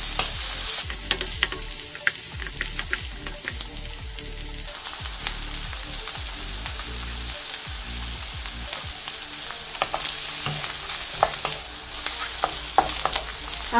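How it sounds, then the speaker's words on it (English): Carrots stir-frying in a hot pan for Spam fried rice give a steady, close sizzle with repeated scrapes and clatters of stirring throughout, and no voices. "Give it a stir for 2 minutes."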